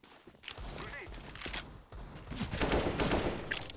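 Bursts of automatic gunfire in Counter-Strike: Global Offensive, rapid volleys of shots in a busy firefight that grows denser toward the end, with no talk.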